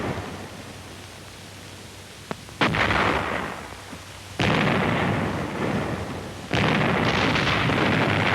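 Heavy artillery blasts and explosions from a World War II assault on fortified ridges and Japanese cave positions, with a sharp crack followed by three loud, sustained roaring bursts that rumble on between them.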